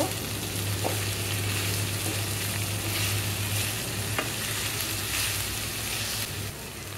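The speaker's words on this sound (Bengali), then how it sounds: "এভাবে নেড়ে ছেড়ে ভেজে নিব" Okra frying in a pan for a quick stir-fry, a continuous soft sizzle with occasional stirring scrapes and taps, steady and close, with no talking.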